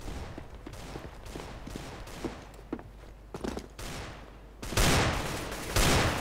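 Gunfire in the video game CS:GO, scattered distant shots and small bursts at first, then louder, denser volleys near the end over faint footsteps and game ambience, with no speech.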